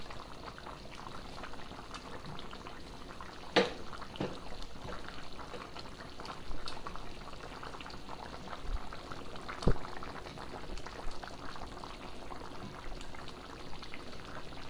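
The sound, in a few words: dumplings dropped into boiling pot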